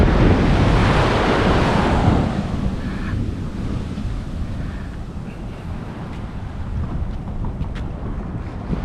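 Ocean surf at a Malibu beach rushes in loud and close for the first couple of seconds, then settles into a steady wash of waves with heavy wind buffeting the microphone.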